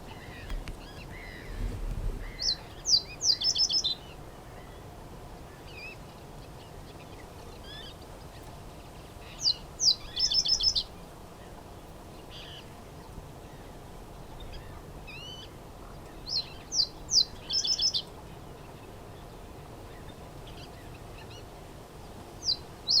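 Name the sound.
reed bunting singing loudly in a bush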